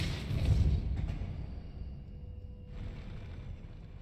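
A spell cast in Hogwarts Legacy bursts out as a deep whooshing blast that swells briefly, then fades into a soft low rumble and a faint hissing tail.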